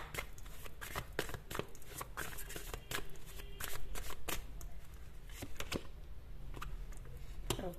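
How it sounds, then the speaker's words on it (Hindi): Tarot cards shuffled and drawn from a deck, a steady run of soft riffling taps and flicks, close and fairly quiet, with no voices. "यहां से भी मैं कार्ड्स निकालना चाहूंगी"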